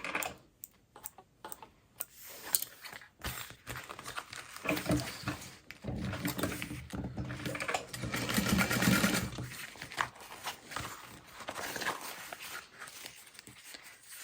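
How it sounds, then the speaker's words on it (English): A sewing machine top-stitches along the folded edge of a cloth bag, running in several bursts of fast mechanical stitching with short pauses between, close and fairly loud. "sew along the edge."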